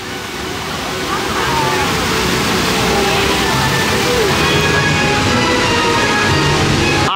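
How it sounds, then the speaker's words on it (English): A cascading waterfall on the front of the Mythos restaurant at Universal's Islands of Adventure pours with a loud, steady rush that never lets up, with faint crowd voices mixed into the background. "The nice cascading waterfall on the front that always looks the part."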